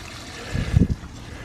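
Water-soluble fertilizer solution pours briefly onto a zucchini plant in a home vegetable garden, a short, soft splashing gush under a second long.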